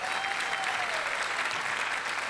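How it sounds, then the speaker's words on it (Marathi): Audience applause at a stage play cast introduction, a dense, continuous wash of many hands clapping, loud and sustained throughout. "जोरदार टाळ्या झाल्या पाहिजे"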